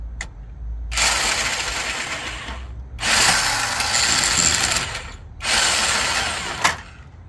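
An impact wrench runs on the brake caliper bolts of a 1999 Oldsmobile Cutlass in three loud, rattling bursts of about two seconds each, separated by short pauses, close up.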